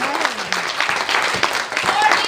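Church congregation clapping hands during a sermon, a dense spread of clapping mixed with voices and exclamations throughout the short burst.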